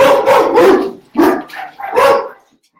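Several loud, close dog barks come in quick bursts, with short pauses between them.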